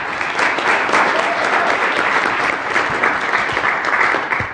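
A seminar audience applauds steadily and loudly for several seconds as a presenter returns to the stage, the clapping dense and sustained without voices.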